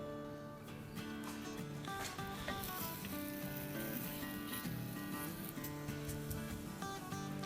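Churma ladoo dough, pricked with a fork, sizzles softly on a hot tawa in a faint, continuous frying crackle with some background tonal noise and no speech.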